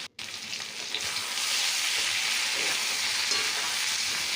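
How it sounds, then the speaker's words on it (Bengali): Garlic, turmeric, chili powder and salt fry together in a pan, a loud, even sizzle that swells after a brief gap at the start and holds steady up close, with no talk. "রসুন সেদ্ধ করে রাখা, হলুদ, লঙ্কা গুঁড়ো আর নুন দিয়ে ভালো করে কষিয়ে নিলাম।"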